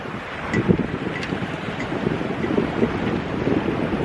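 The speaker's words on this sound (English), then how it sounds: "The wind has picked up a bit. We have around 20 to 25 knots of wind." Strong wind of around 20 to 25 knots buffets a sailboat at sea, a steady broadband roar and rush with gusty swells in loudness throughout, close and continuous with no voices.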